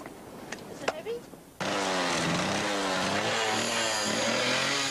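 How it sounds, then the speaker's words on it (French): On a beach dig site, a circular saw cutting into sediment rock starts abruptly after a few faint knocks, then holds a loud, steady grinding whine to the end. "ici les chercheurs emploient la scie circulaire."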